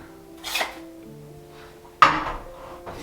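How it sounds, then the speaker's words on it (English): A metal drywall knife is picked up during drywall finishing on a DIY cabin build, giving two brief clacks, a softer one and then a sharper, louder one, in an otherwise quiet room. "I'm going to grab my other knife"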